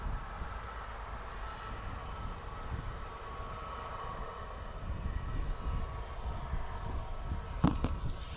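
A Lufthansa aircraft taking off at Dublin Airport produces a distant, rumbling roar that builds gradually, ending with a brief sharp clatter nearby.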